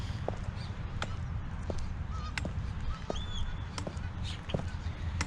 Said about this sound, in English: See if I get attacked by geese here.